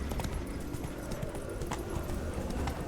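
Roach, the horse in The Witcher 3 video game, gallops with a steady, rhythmic clip-clop of hooves that is close and moderately loud, running continuously at a fast pace, with faint voices beneath.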